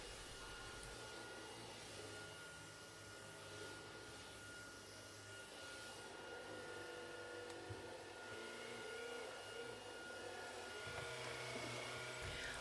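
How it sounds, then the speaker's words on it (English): A Shark Wand Vac stick vacuum cleaner runs at home, a faint, steady motor whir with soft bumps and brushing noises as it moves, no voices over it. "This is a Shark Wand Vac, and it is made by Shark."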